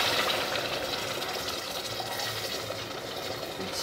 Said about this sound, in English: Then you put in that 1, 2, 3, 4 cups of water,